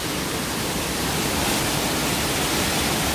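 Yongso waterfall in Deokpung Valley, a deep-pooled mountain falls with water pouring continuously, making a dense, even, full-range rushing roar that stays steady and close with no other sounds.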